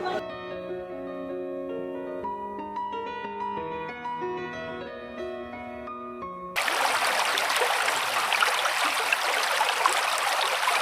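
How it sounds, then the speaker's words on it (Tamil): Water rushes through a gap in a river cave near Dehradun, a loud, steady, close wash of flowing noise that cuts in abruptly after several seconds of music and continues without talk. "அதுல இருக்க கேப் வழியா தண்ணி வரும்."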